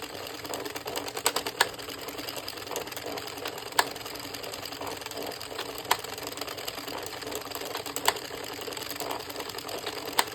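Addi or Sentro circular knitting machine being cranked through rows of yarn, giving a steady close mechanical clatter with regular sharp clicks about every two seconds and no talking.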